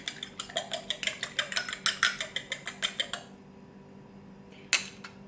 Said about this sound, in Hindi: अंडे को मैं अच्छे से फेंट लूँगी।